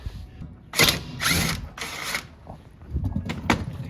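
An impact wrench removes a strut bolt on a 2018 Honda Civic Si during a lowering spring install, firing three loud, close bursts in quick succession, followed by quieter handling clatter and a short sharp burst.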